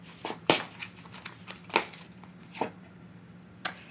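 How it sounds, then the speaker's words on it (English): Someone shuffles a deck of oracle cards close up in a quiet room, making soft papery riffles and a few sharper slaps at uneven intervals, with no talking. "As I shuffle the deck"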